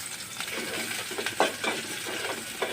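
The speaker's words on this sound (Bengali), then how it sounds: "এখানে আমি কিছু পরিমাণে সয়াবিন তেল দিয়ে দিলাম। তার সঙ্গে দিয়ে দিলাম কিছু পেঁয়াজ কুচি।" Chopped onions frying in soybean oil, a steady sizzle with a few louder spatters and stirring scrapes close by, no voices.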